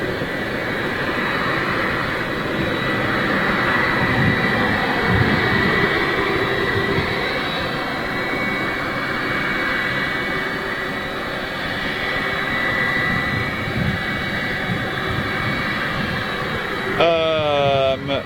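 A Boeing 757 jet at Manchester Airport gives a steady, broad engine roar that holds for the whole stretch, with whining tonal bands over a low rumble, and a brief electronic warble near the end.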